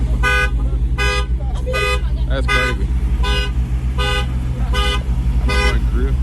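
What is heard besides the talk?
truck alarm going off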